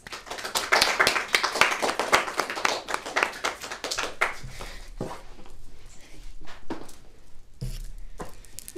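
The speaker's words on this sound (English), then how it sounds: "give them a round of applause" Clapping for a girls' team, a small group's sharp individual claps at first, close and distinct, then dwindling into sparse scattered hand claps and taps.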